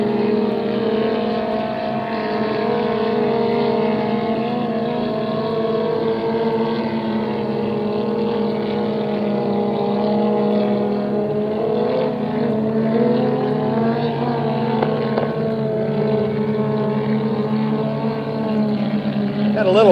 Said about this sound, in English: Popping and banging going on up there. Boat's still running and running fine.